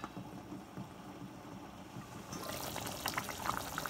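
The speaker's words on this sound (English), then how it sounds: "I'm going to add half cup water." Half a cup of water is poured into a pan of coconut chicken curry, a steady splashing gush that sets in partway through over a low background hiss, fairly close and moderately loud.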